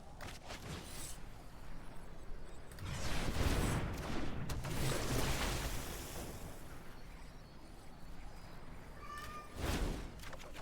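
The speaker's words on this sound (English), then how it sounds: "Oh my god, emergency, the cat wants to go outside." A house cat meowing to be let outside, with a few faint, drawn-out meows rising above a quiet room background, the clearest cry coming near the end.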